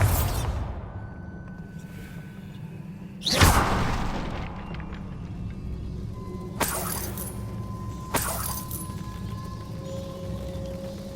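Bombarda spell detonations in the Hogwarts Legacy video game: one loud broadband blast with a crackling tail, followed by two sharper, lighter impacts, all over a steady low game ambience.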